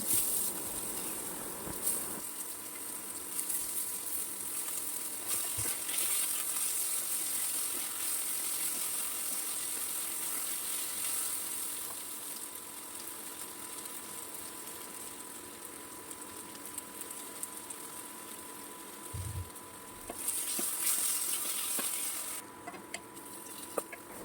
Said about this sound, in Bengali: কড়াইয়ে আরও একটু তেল দিয়ে কেটে রাখা যে আলুগুলো ছিল সেই আলুগুলো আমি ভেজে নেব